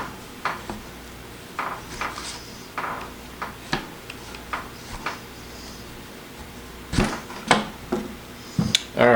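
A Samurai 360 circular rolling knife chopping on a board, a series of sharp, irregular clacks and taps close by, growing busier and louder toward the end.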